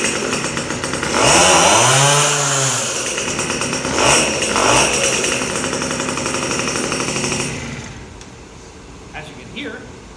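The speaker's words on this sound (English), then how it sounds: "So I will start it up for you real quick." A liquid-cooled Peugeot 103 moped engine fires up with a loud, raspy two-stroke buzz. It swells through a sharp rev and holds a busy, rattling idle with smaller blips, then cuts out near the end, leaving faint background noise.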